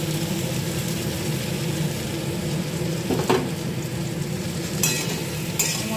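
Cauliflower and potato pieces frying in hot oil in a pan, a steady close sizzle that runs throughout with a few brief clinks of stirring near the end and no talk.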